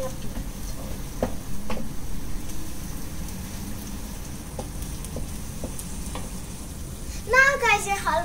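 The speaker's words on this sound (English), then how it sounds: "you can start stirring up your batter." Halwa batter with cashew nuts being stirred in a pan, a steady soft sizzle with scattered scraping strokes of the spoon and a louder burst of clattering stirring near the end, no talking.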